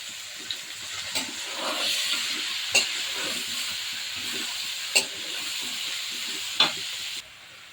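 Onion, garlic and green chillies frying in a pan for a vegetable dish hiss in a steady, moderately loud sizzle close by, broken by a few sharp spatula clinks against the pan, with no voices.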